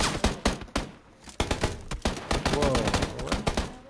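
Gunfire in the video game PUBG: rapid bursts of sharp shots, close and loud, in irregular volleys that build into near-continuous firing toward the end.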